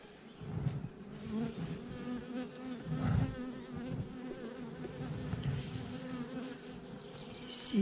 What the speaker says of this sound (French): Frelon européen.